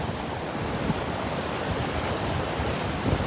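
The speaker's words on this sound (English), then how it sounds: "It gets all this surf churned up" Rough ocean surf churned up by an east wind pounds a sandy beach, a steady broadband wash of breaking waves with gusty wind rumble over the microphone, loud and continuous with no voices.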